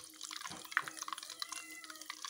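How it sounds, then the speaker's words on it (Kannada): Ghee crackling hard in a pan, a steady stream of quick sharp pops and sputters close by, continuous and busy throughout with no voices. "ಈಗ ತುಪ್ಪ ಹಾಗೆ ಜೋರು ಹೊಟ್ಟುತ್ತಾ ಇದ್ದು"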